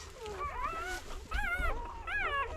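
Several high, thin whimpers and squeals from a litter of eleven newborn livestock guardian dog puppies rise and fall in short overlapping cries, close by.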